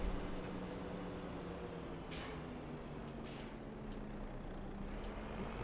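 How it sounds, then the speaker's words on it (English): A fully loaded truck in Farming Simulator 25 rolls along with a low, steady engine rumble, faint in level, broken by two sharp air-brake hisses. "this truck, even though it's fully loaded, still rattles along at a decent speed"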